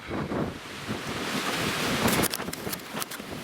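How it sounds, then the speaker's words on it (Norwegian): Gusty winter wind buffets the microphone outdoors by a one-person tent with a roaring rush, swelling and easing, with some sharp crackling bursts near the end. "Og det er ikke veldig kraftig vind heller akkurat nå."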